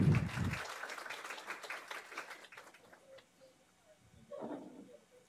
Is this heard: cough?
no